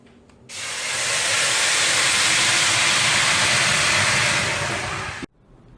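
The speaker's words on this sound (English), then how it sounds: "I also have a cup of water I'm going to pour into a heavy cast pan in the bottom of the oven to create steam." Water poured into a hot heavy cast pan at the bottom of an oven, setting off a loud, steady steam hiss that lasts about five seconds and stops abruptly.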